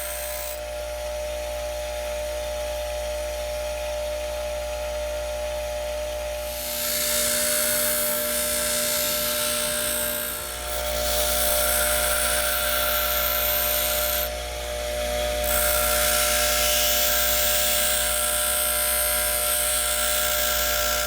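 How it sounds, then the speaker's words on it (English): Edges of an iron trade arrowhead are ground to sharpen them: a loud, rasping power grinder roars steadily over a constant motor hum, easing off briefly twice as the metal is repositioned. "grind the edges on both sides to sharpen them and expose the fresh silver metal underneath"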